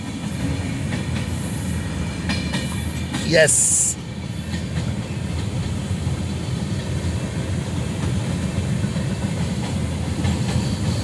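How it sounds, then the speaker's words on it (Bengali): The Kanchanjunga Express rumbles past alongside a car on a road trip in North Bengal, a loud, continuous rolling of wagons and clattering wheels close by, with a brief squeal or horn-like burst early and a short spoken word. "কাঞ্চনজঙ্ঘা এক্সপ্রেস যাচ্ছে আমাদের পাশ দিয়ে"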